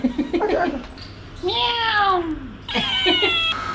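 A pet cat gives two drawn-out, loud meows close by, one after the other, with a person speaking Hindi briefly before them and faint room noise underneath.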